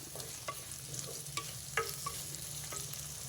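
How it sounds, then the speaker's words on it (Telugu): Sliced onions and green chillies sauté gently in a pan for a potato curry, a steady low sizzle with a few soft scrapes of a stirring spoon, close and alone without talk. "కట్ చేసి పెట్టుకున్న ఉల్లిపాయ పచ్చిమిర్చి వేసేసుకున్నా. ఈ ఉల్లిపాయ కొంచెం మగ్గాలి అంతే"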